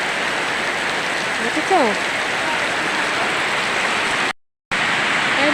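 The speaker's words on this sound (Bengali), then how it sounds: "এই দেখো বন্ধুরা বৃষ্টি হচ্ছে" Steady rain pours down during the monsoon at Mohonpur, a dense, even hiss of water that runs almost throughout, with a brief voice and a short dropout near the end.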